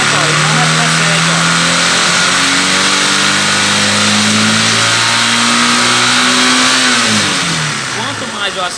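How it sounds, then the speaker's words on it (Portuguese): A Honda CG 150 motorcycle engine revving up from idle, rising in pitch and holding a loud high rev for several seconds before dropping back, close to the microphone during a battery charging test. "Agora eu vou acelerar, ó."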